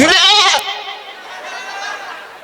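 A goat bleats loudly and close for about half a second during a Maithili comedy stage show, its wavering cry then fading into quieter room noise and murmuring.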